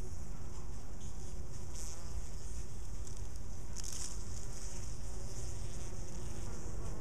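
Pesticide-poisoned honeybees beat their wings extremely fast around a home hive, a dense steady buzzing drone that holds close and constant without a break.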